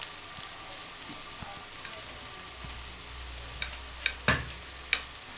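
Tomato paste from two tomatoes cooks in an onion masala, giving a soft, steady sizzle with a few sharp clicks and spoon-scrape knocks toward the end.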